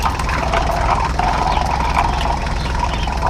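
Cartoon tractor engine running in a steady, continuous drone with a constant low rumble and no pauses, fairly loud and close throughout, with no voices over it.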